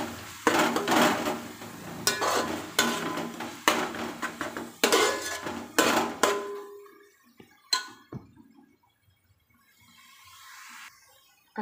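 Ginger, garlic, coriander and mint paste sautéed in a pan: repeated loud spoon-on-pan clatters and scrapes in uneven bursts, then a quieter stretch with sparse knocks.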